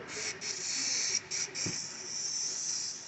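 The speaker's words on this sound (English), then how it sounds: "spray a bunch of spray oil in this thing" A steady, close hiss of aerosol lubricant sprayed into the recoil starter of a Honda 5.5/6.5 engine, running about three seconds, with a couple of brief breaks and a faint knock partway through.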